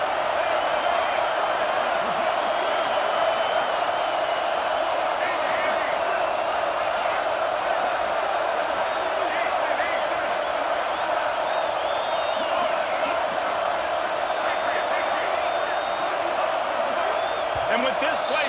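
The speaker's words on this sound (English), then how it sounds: "And with this place rocking, the crowd forces a false start." Stadium crowd at a Florida versus Ohio State football game, a loud, sustained roar that fills the whole stretch, with a commentator talking over it.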